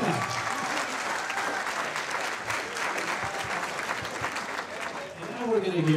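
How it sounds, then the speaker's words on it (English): Wedding reception guests give a round of applause during the best man speech, a steady burst of many hands clapping at moderate distance with faint voices mixed in toward the end. "Give her a big round of applause to Karina."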